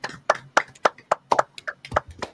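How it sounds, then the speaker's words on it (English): Hands clapping along to the Cha Cha Slide at a dance, with about ten sharp claps on a steady beat, close and clear, and no talking over them. "Everybody clap your hands."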